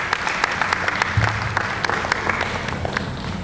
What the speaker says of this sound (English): A round of applause for Santiago.